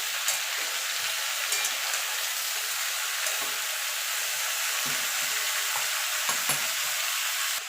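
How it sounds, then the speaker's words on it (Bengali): Mixed vegetables with salt stirred in a hot pan, a steady close sizzle throughout broken by repeated scraping strokes of the spatula. "নুনটা দিয়ে আবার একটু নাড়াচাড়া করে দেবো, দিয়ে ঢাকা দিয়ে দেবো।"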